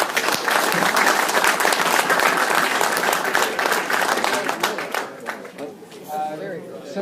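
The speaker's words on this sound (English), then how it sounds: "So, a round of applause for" A meeting audience applauds loudly and steadily for a member named Manny, a dense wash of clapping that fades and thins toward the end, with a few voices mixed in.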